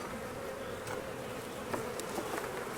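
A dense swarm of honeybees buzzes at a beehive in a steady, moderately quiet drone, with individual bees occasionally passing close by.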